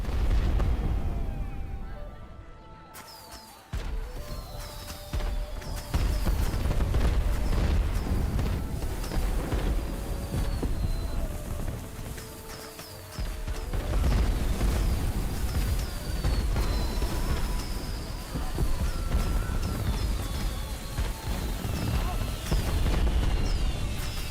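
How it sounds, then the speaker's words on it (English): Fireworks set off in the video game Where Winds Meet, a dense run of booming bursts and crackling pops, with whistling rising launches and loud repeated explosions that briefly quiet down before resuming. "All right, you can set off fireworks to get points."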